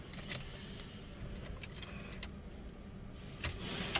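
A bunch of car keys jangling near a Chevrolet Opala's ignition as someone hunts for the keyhole, light metallic clinks in scattered bursts over a low engine-bay rumble, ending with a sharper rattle.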